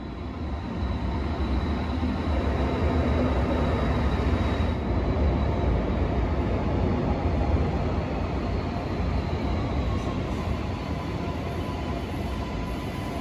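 An Alstom Citadis light rail tram on Sydney's L1 Dulwich Hill Line in the Inner West gives a steady, loud rolling rumble with a low hum that holds evenly throughout.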